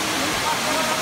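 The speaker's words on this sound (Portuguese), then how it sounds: "Gente, aqui é a Cachoeira da Saudade." Cachoeira da Saudade waterfall roars as a loud, steady wash of rushing water that fills the whole moment without a break.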